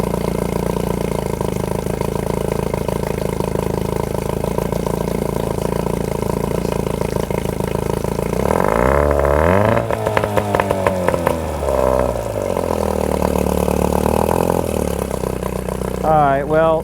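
A 1957 Johnson AD-11 7.5 horsepower outboard motor runs out of the water, a loud steady drone that surges and revs unevenly midway, then settles back to a rough idle.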